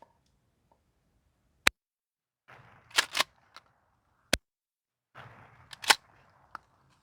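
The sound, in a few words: gunshots, two more rounds fired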